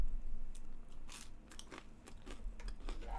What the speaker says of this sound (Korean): 마늘을 먹어보겠습니다